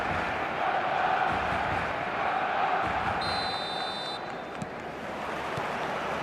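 Steady roar of a stadium crowd at a virtual football match in eFootball 2026, a broad dense wall of cheering and chanting that stays loud and even from start to finish, with a brief higher whistle-like tone partway through.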